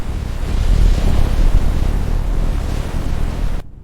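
Heavy surf and gusting wind roar together in a dense, constant wash, loud and close, ending abruptly.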